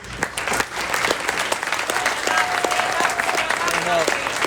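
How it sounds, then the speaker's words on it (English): A crowd at a sports team awards banquet claps steadily for several seconds, a dense, lively round of applause with some voices mixed in. "I think everybody deserves a big round of applause."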